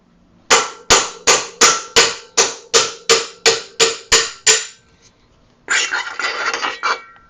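Sharp metallic hammer blows drive a part into a 1992 Paramount Series 50 bicycle frame, about a dozen close, evenly spaced strikes, followed by a brief burst of scraping, rattling metal.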